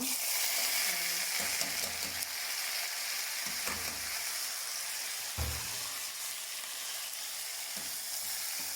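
Rice fries in a pan for mulukhiyah, browning gradually, with a steady close sizzle and occasional stirring scrapes. No one speaks.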